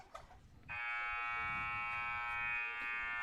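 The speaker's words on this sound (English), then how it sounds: "We're waiting for that buzzer to tell us that we're ready for basketball." A basketball buzzer in a high school gym sounds a steady, sustained electronic tone that starts abruptly and holds for several seconds. Crowd murmur and faint gym noise sit underneath it.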